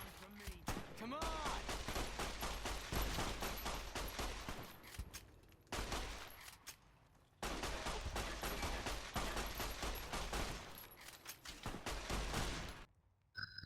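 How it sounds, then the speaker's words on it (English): Automatic weapon gunfire in the video game Fallout New Vegas: long, loud, rapid bursts of shots, broken by a short pause, then firing resumes, with no talking. "They deal a lot of damage and they often attack with automatic weapons."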